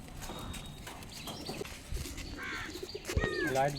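Black pigeons at a pigeon-flying display in Rajshahi, with soft coos and calls, flapping and clattering wings, and a sharp chirping burst near the end, over an outdoor background murmur.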